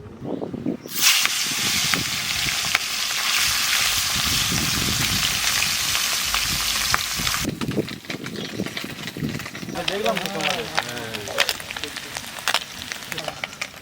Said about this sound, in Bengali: চেলা মাছ করে একটু কড়া ভাজা দেবো